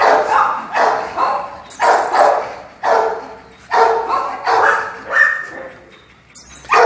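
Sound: dogs barking at a kennel

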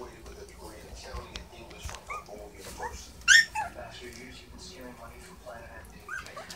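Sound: newborn puppies whimpering and yipping

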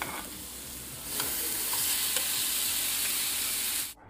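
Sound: tomatoes and spices being stir-fried in a pan

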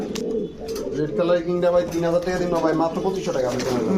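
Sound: red King pigeons cooing

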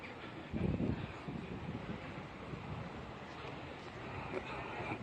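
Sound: strong north wind

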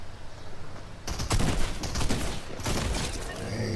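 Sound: gunfire from Fortnite video game

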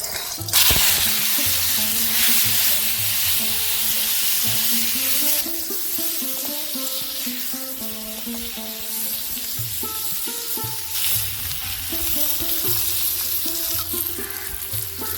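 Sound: flat beans frying in oil in a wok

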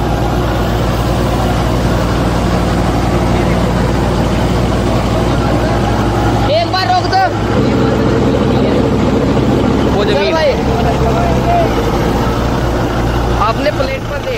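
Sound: Kubota tractor engine running

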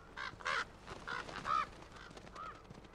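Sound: birds calling in video game The Last of Us

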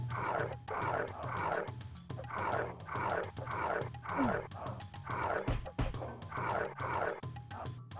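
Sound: hyenas yipping and snarling in The Lion King video game

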